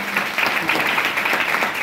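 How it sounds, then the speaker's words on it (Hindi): Loud, steady applause from an audience at a career and motivational speech event, filling the clip without a break; the speaker had just called for a big round of clapping for a colleague. "मैं चाहूँगा जोरदार तालियां उनके लिए"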